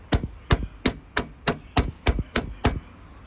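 A hammer strikes a socket onto a suspension nut on a Vauxhall Corsa front strut, eight sharp metallic blows at an even, brisk rhythm, close and loud, with no talking.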